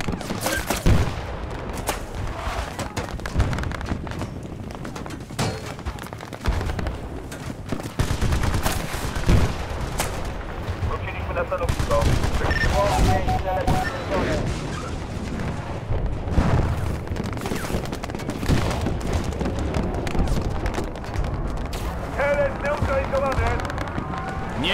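Bursts of rapid gunfire and explosions from the combat game Battlefield: Bad Company 2, with loud continuous action and radio-style voices talking over it throughout.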